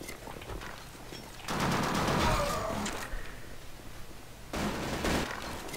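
Bursts of rapid gunfire from the zombie shooter game Raid of Zombie, two dense volleys with a quieter gap between them, loud and close with no talk over them.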